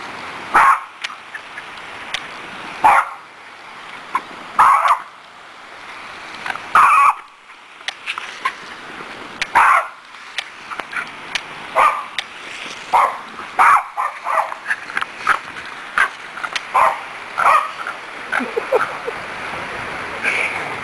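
A dirty dog being hosed off lets out sharp, close barks in uneven bursts, some spaced seconds apart and others coming in quick runs, over a faint wash of running water.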